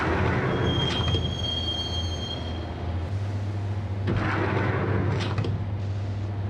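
Steady train ride rumble in the Max Payne video game, with a constant low hum, passing rattles and a brief squeal of wheels on rails, no voices over it.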